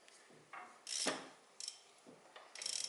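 Socket wrench turning a bolt, a few short ratcheting clicks and scraping turns in separate bursts, close and fairly quiet, with pauses between strokes.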